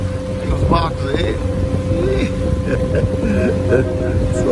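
Boats on the water at Universal park in Orlando, a steady engine drone and wind noise across the microphone under a person talking.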